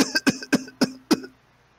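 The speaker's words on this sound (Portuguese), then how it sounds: "começa a tossir." Five sharp, raspy coughs come in quick succession up close, then the sound fades to quiet.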